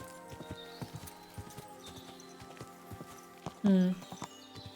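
A horse clip-clops at a walk in Kingdom Come: Deliverance 2, hooves beating an even close rhythm while someone talks over them, and a brief loud snort or whinny near the end.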